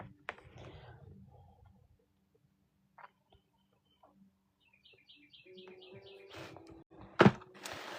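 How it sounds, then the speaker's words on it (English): Birds outside chirp in short, high, rapid bursts at a moderate distance, heard through a quiet indoor room with soft clicks, rustles and faint whispering. "the birds chirping outside."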